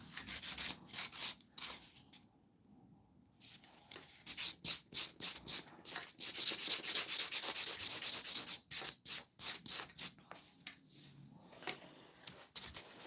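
Acrylic nails are buffed with quick, rhythmic scratchy strokes close up, sounding in bursts with short pauses between them and no voices over them.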